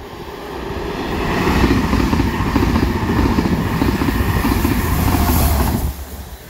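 A train rumbles loudly past at close range through Hadnall station, a steady roaring rush that holds for several seconds before dropping off abruptly.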